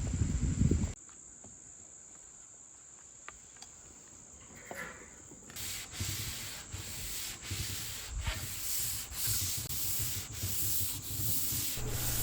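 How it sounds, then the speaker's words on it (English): A sanding sponge is rubbed by hand over the veneer of a mid-century modern china cabinet, quiet at first, then rhythmic back-and-forth strokes, close and scratchy, repeating steadily. "I did try to sand it down with just a sanding sponge."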